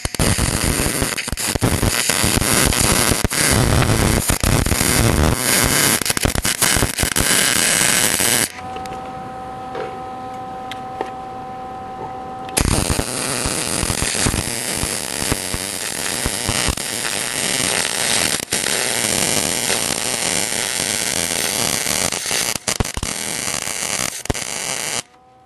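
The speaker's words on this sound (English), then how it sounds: "Alright, I'm going to finish up the weld." Welding a porch railing: a loud, harsh continuous crackle and buzz from the arc that cuts out for a few seconds to a quieter steady hum, then resumes and runs steadily until it stops at the end.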